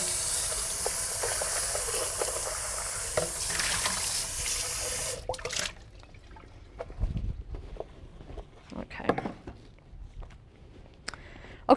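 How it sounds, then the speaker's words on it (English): A blender is rinsed under a running kitchen tap. Water gushes steadily for about five seconds, then stops, followed by scattered clinks and handling knocks of the jar. "I'm gonna get my burner hot here and just go wash my blender for a second"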